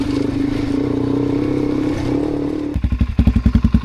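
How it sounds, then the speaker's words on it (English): A dirt bike engine idles and burbles as it rolls downhill in first gear with the clutch out, then breaks into a choppy, pulsing chug of rapid engine thumps near the end, loud and close. "just roll down, first gear, hand off the clutch, just let the engine sort of do the job for you"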